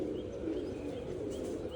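Pigeons in a breeding loft give soft, steady cooing with faint chirps, a low continuous murmur with no voices.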